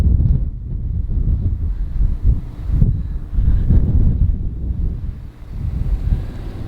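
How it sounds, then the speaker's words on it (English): Strong wind funnels between weather fronts over a campsite overlooking the South Dakota Badlands, roaring in continuous gusts and buffeting the microphone close up. "We're in a wind tunnel because we've got weather on both sides funneling the air right down the middle."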